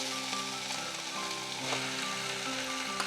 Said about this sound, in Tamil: இதை வறுக்கும் போது நம்ம பார்த்து வறுக்கணும்